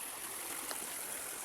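A waterfall stream near a village temple flows in a constant, faint rushing hiss, steady throughout with no voices.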